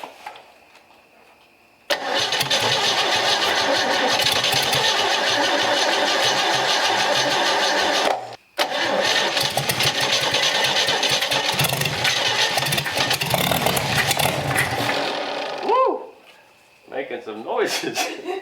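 Chevy 250 straight-six cranks and catches, running loud and rough with a brief stumble, then revving on before cutting out, followed by people talking near the end.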